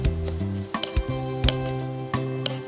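Yardlong beans and cabbage sizzling in a pan for fried rice, a steady frying hiss under droning tonal background music, with a few sharp scrape-like stirring accents.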